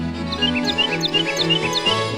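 Wild birds chirping at a home feeder in an advert, a series of bright, quick tweets repeating in a steady rhythm over a background of soft music.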